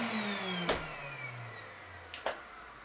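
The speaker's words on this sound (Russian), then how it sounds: "Так, пылесос работает." A Samsung vacuum cleaner runs steadily at moderate level, a continuous motor whine with a slowly falling tone, broken by two brief sharp knocks or clicks.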